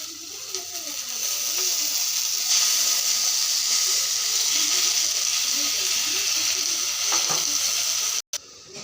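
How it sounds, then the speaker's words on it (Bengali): Onions and tomato frying in a pan give a steady, loud sizzle that hisses on for several seconds, with a brief gap near the end. "পেঁয়াজগুলো হালকা একটু বাজা হয়ে গেছে এখন টমেটোটা কেটে রেখেছিলাম এই টমেটোটা দিয়ে দিচ্ছি"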